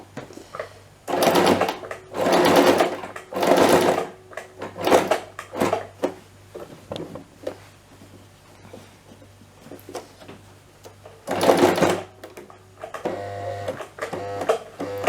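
A Toyota Jeans sewing machine stitching over a thick seam, running in several loud mechanical bursts with pauses and clicks between them as it struggles through the fabric.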